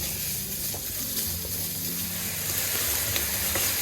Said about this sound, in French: Les oignons sont prêts, j'ajoute donc le bœuf et je vais laisser revenir environ 5 minutes